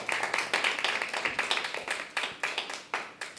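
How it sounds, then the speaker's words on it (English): Audience at a Portland Center for Spiritual Living celebration service gives applause, a modest group clapping in uneven bursts, moderately close and steady for a few seconds. "We can have another round of applause."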